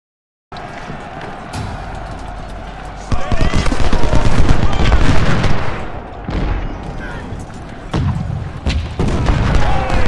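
Musket fire on skirmishers in the Civil War strategy game Ultimate General: Civil War, loud, ragged bursts of volleys and crackling shots that swell and fade in waves over about ten seconds.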